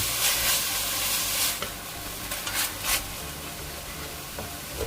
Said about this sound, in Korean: 대패 삼겹살 350g을 넣고 중간불에서 볶아주세요